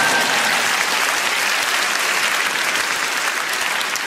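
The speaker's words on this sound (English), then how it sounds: "Give yourselves a round of applause." Sustained applause fills the hall at the BAFTA TV Awards ceremony, a large audience clapping loudly and evenly throughout with no voices over it.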